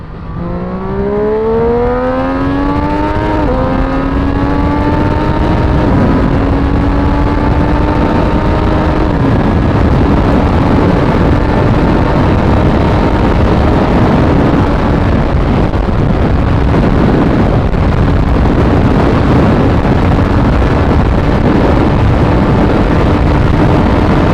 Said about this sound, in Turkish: Bakalım full gaz. Kesiciden kesiciye vites atacağız.